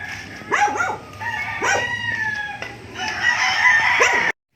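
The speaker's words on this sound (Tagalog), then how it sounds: "Dito ang alaga ni Kuya Balong ay mga Texas naman, panabong." Texas gamefowl roosters crowing repeatedly, several overlapping calls near and far in a farm yard, with a dog barking faintly among them.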